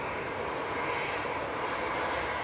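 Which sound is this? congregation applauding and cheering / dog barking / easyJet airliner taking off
easyJet airliner taking off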